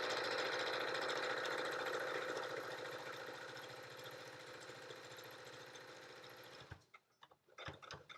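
A sewing machine stitches a Yup'ik make-up bag. Its close, steady mechanical whir runs continuously and slowly fades, then breaks into a few short bursts and clicks as it back-stitches.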